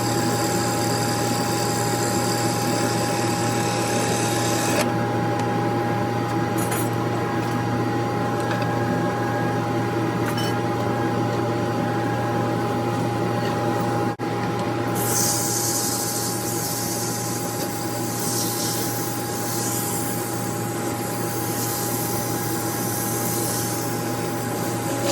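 Steady, loud motorized whir of a power sander rough-sanding a segmented wooden bowl of walnut, orange osage and cherry, with a harsher hiss of abrasive rising partway through; no talking.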